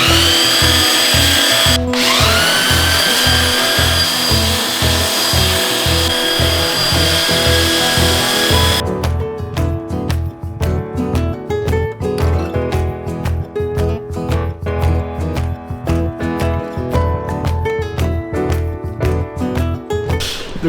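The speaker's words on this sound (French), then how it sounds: "Pour la poncer, on va toujours suivre le sens du bois, le fil du bois, et jamais dans le sens inverse" A power sander works a hand-cut wooden cross along the grain, giving a loud, steady, close whine throughout; partway in the tone turns rougher and pulses rhythmically as the tool bites, with no talk.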